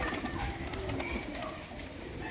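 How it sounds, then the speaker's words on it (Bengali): Pigeons in a rooftop loft coo continuously at close range over a breezy outdoor hiss, with no voices. "চোর পায়রা।"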